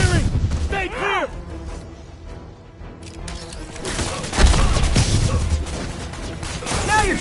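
Weapon fire in a PS4 combat video game: repeated loud bangs and crashing impacts come in bursts over a dense, noisy battle backdrop, with in-game voices calling out between the shots.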